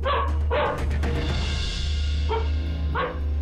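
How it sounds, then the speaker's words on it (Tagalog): A dog barks repeatedly in short, sharp bursts, a quick pair at first, then scattered barks and yips over a low steady hum. "maririnig ang sunod-sunod na pagtahol ng aso na si Buddy"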